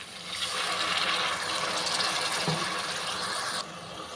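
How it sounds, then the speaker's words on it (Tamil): Steady broadband rush of water being poured into a pan of vegetables, loud and continuous for about three seconds, then cutting off abruptly. "காயெல்லாம் வேகிறதுக்கு கொஞ்சமாக தண்ணி சேர்த்துக்கிறேன்"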